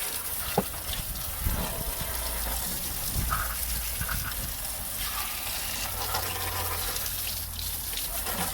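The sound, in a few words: steady stream of water rinsing a BMW wheel arch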